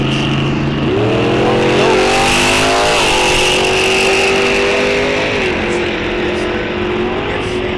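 A 1963 Dart and a 1968 Firebird launch off the line at Rock Falls Raceway drag strip, engines revving hard and climbing in pitch through gear changes, loud and close, holding a high roar before easing off.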